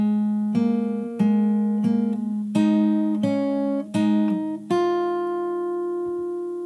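Fingerstyle acoustic guitar picks a single bar of a song, fretted notes ringing in a steady sequence of about seven plucked phrases, close and clear, with the final note left to sustain alone.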